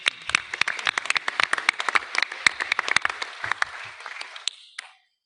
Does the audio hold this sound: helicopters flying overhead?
no